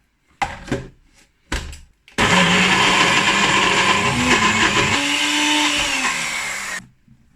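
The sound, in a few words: NutriBullet blender blending cashew paste for vegan cheese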